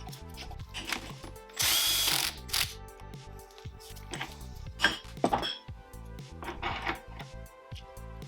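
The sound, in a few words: tool removing a 14 mm nut on Honda Hobbit pulley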